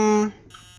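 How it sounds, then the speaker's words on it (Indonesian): An alarm clock rings in the horror game Emily Wants to Play Too, a loud sustained electronic tone that cuts off abruptly, followed by a brief quieter beep. "That alarm clock so annoying."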